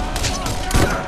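Rapid video-game gunfire from Borderlands, a dense burst of shots with a heavier thump near the end, loud and overlapping a voice talking.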